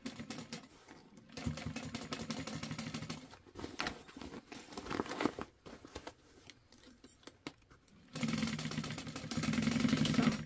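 A sewing machine stitching the straps onto a tote bag made from sublimated fabric runs in steady bursts, stopping and starting repeatedly, close and fairly loud, with a longer run at the end.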